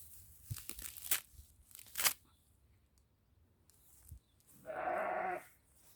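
A single sheep bleats loudly near the end, a wavering drawn-out cry, after a series of rustling and crinkling noises close by.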